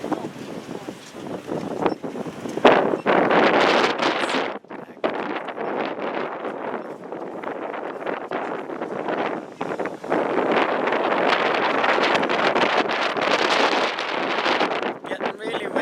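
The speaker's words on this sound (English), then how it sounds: "windy, really cold windy" Cold wind at Hoover Dam buffets the microphone in loud, rough bursts of rumbling noise that keep coming and going, with a voice talking over it.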